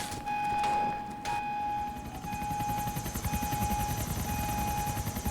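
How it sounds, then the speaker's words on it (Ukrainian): A helicopter in GTA: The Lost and Damned thumps with steady rotor beats that grow stronger and closer, accompanied by a sustained engine whine, with a few brief sharp game sounds early on. "А Ось і гелікоптер."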